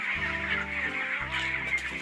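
Broiler chickens on a poultry farm, clucking in short bursts close by, with a steady low hum of farm machinery beneath.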